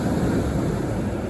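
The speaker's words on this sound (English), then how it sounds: "You need the water. You need the waves. You need the beach." Ocean waves wash onto a beach in a continuous, loud, low rumbling roar with wind buffeting the microphone, no voices present.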